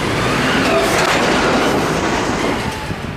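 A freight train being loaded with containers rumbles past nearby, steady loud rail noise with wheel clatter and a faint squeal, easing slightly at the end.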